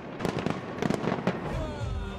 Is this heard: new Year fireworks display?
yes